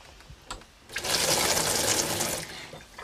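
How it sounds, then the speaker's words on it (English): Water from a tap on a domestic kitchen set gushes in a steady hiss for about a second and a half, close by, with faint knocks just before and no voices. "They've even got hot and cold running water."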